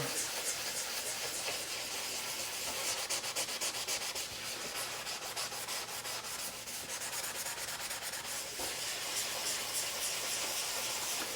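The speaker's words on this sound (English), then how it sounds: "You can use lava soap and get it all the way around the lap, and then scrub." A lapidary lap gets scrubbed with lava soap, producing a continuous, fairly loud gritty rubbing and swishing that keeps a steady back-and-forth texture throughout, with no talking.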